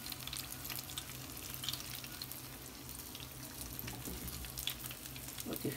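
Soft, steady sizzling and crackling of cornmeal frying in a pan, quiet and continuous with occasional small pops.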